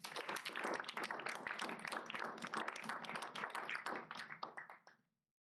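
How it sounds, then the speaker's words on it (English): An audience at a literary magazine reading event claps in a warm round of applause, dense and steady, then tapering quickly and stopping cleanly. "So please give a round of applause for all of the people who are editors this time around."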